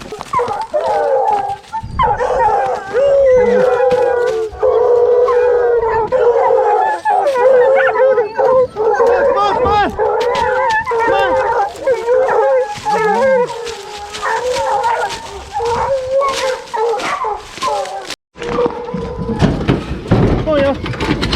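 Several hunting hounds bay and howl continuously on a bear track in a loud, overlapping chorus, with occasional yips and brief voices mixed in.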